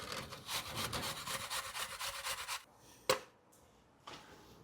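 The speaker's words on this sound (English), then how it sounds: "we're going to add natural pectin by grating 1 apple, this is a Granny Smith, so a cooking apple" A Granny Smith apple rubbed over a grater into a pot for jam, a steady scratchy rasping for a few seconds, then a sharp knock and a softer scrape in a quieter room.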